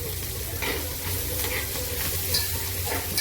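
Red chili powder and coriander sizzle steadily in hot oil, a continuous close frying hiss with light stirring and no talk.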